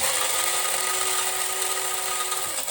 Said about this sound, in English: I'm gonna grind up a little fresh brew